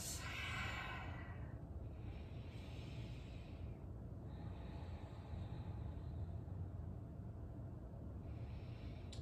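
A slow, deep breath is taken during a yoga stretch, with a long airy inhale followed by soft exhales, close and fairly quiet.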